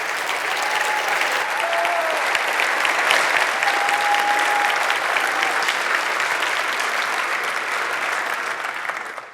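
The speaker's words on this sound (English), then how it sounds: "give a warm round of applause for Tanja" A large conference audience applauds a keynote speaker, Professor Tanja Bueltmann, with dense, steady clapping that holds evenly for about nine seconds and then tapers at the very end.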